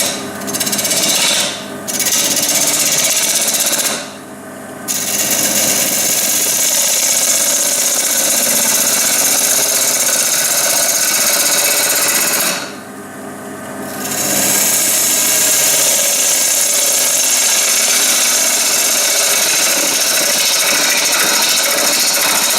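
A wood lathe turns a spalted beech lamp base with a loud, close, continuous rasping rub of the tool on wood, broken by a few short pauses before resuming steadily.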